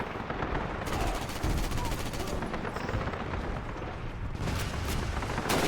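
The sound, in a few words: gunfight in the video game Call of Duty: United Offensive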